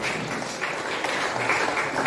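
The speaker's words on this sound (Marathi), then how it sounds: "सगळेजण जोरदार टाळ्या वाजवूया" A hall full of people at a camp's closing ceremony breaks into sustained applause, a steady mass of clapping hands filling the room at moderate loudness without speech.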